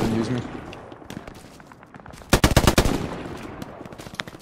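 Machine gun fire in a multiplayer shooter game: a rapid burst of close, loud shots around the middle, a few scattered single shots after it, and a voice heard briefly at the start.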